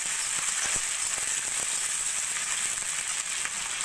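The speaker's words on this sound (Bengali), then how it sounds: "পেঁয়াজটাকে আমি একটু ভাজা ভাজা করে নেব।" Thinly sliced onions with nigella seeds frying in hot oil in a wok, a fairly quiet, even sizzle with scattered small crackles and pops, heard close and without voices.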